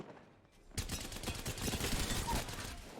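Sustained automatic gunfire erupts in an Apex Legends match, a dense burst of rapid shots that starts abruptly after a short quiet moment and keeps up loud until the end.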